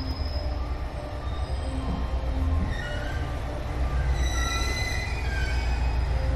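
At Yonago Station a train rolls past with a deep rumble. Wheels squeal at a high pitch throughout, the noise swells toward the end, and no voices come through.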